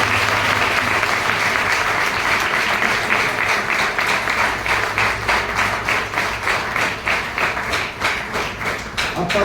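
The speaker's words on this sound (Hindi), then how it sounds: "एक जोरदार ताली बजाइए।" A church congregation gives a loud, sustained round of applause, dense overlapping clapping that fills the room evenly for the whole stretch, with faint voices mixed in.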